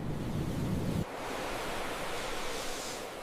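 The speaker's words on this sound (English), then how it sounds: "The ocean does not gently meet this shore. It attacks it." Ocean surf pounds the black volcanic sand of Reynisfjara on Iceland's southern coast, a steady roaring wash of waves with a heavier crash in the first second, then continuous broad rushing surf mixed with wind.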